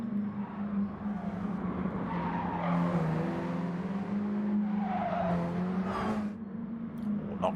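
Mini Cooper Cup race cars lapping the Nurburgring GP circuit, a steady loud engine drone with rising and falling pitch as cars pass and tyres squeal through a corner, continuous throughout.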